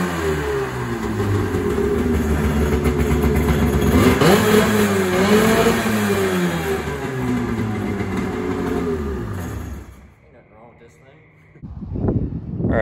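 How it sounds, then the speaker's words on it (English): A 1996 Sea-Doo GTS jet ski engine runs loud and close after sitting for years, its throttle worked up and down in rising and falling revs before cutting out into near silence, then a brief restart burst, with a person talking over it. "I decided to, try to start it just because I could. And then I'm messing with the throttle linkage and whatnot"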